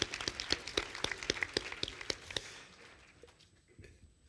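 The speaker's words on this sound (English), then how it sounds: "Let's give her another round of applause, please." A small audience at a community forum claps in sparse, distinct hand claps that are fairly quiet and taper off after a couple of seconds into near silence.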